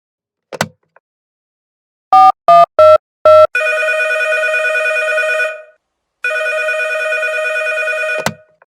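A telephone rings loudly in a quiet room: a few short rapid electronic rings, then two long sustained tones separated by a pause, with faint handling clicks at the beginning and end.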